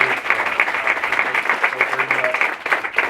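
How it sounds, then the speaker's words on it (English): An audience at an airport terminal ribbon-cutting ceremony bursts into sustained, fairly close applause with dense, even clapping throughout, and a few voices mix in beneath it. "let's give all of them a big round of applause for what they do"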